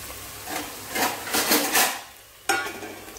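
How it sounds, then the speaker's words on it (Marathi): Onion and garlic frying in a pan, a close crackling sizzle broken by metal spoon scrapes and clinks against the pan, with a sharp knock near the end and no voices. "इथे छान कांदा लसूण टाकून घेतलेला आहे, आणि छान ब्राऊन होतपर्यंत मस्त भाजून घ्या।"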